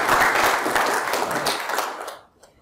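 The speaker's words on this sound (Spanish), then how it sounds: "recibamos con un aplauso al doctor Federico Meléndez" An audience at a lecture hall event applauds to welcome a speaker, a dense burst of clapping that holds steady for about two seconds and then quickly fades to silence.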